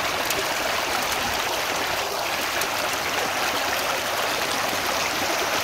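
Material is poured slowly into a Keen A52 gold sluice set in a stream, and the flowing water makes a steady rush and gurgle that continues throughout with no talking.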